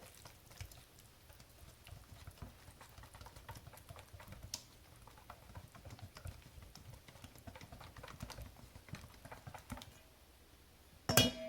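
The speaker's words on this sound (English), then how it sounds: "And whisk that in as well, really good." A whisk taps and scrapes rapidly against a bowl, beating cream cheese into keto snickerdoodle muffin batter; a quiet, steady patter of light clicks with no talking.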